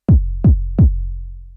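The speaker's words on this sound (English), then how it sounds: "We have a bass drum." Three deep bass drum hits from an Analog Rytm drum machine in an even rhythm, each a punchy low thump with a ringing tail, the last one left to decay.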